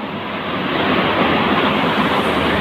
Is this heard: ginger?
no